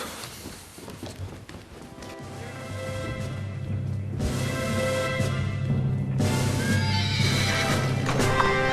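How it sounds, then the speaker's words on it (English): Horses neigh and whinny repeatedly while hooves clip-clop steadily underneath, close and fairly loud against a busy outdoor scene, with no talking. "The boy's bringing your horses."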